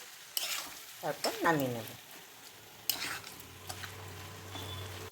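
Bottle gourd curry cooked without spices is stirred in a pan with crushed fried lentil dumplings. Clattering scrapes and a low sizzle sound close by, and a voice speaks briefly over them.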